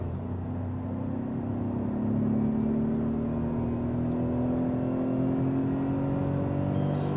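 A Tata Tiago petrol car accelerates in second gear, with a steady engine drone and whir whose pitch rises slowly throughout, heard from inside the cabin and unbroken by voices.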